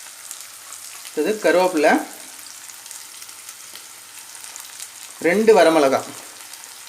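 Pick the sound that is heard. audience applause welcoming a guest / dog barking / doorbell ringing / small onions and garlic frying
small onions and garlic frying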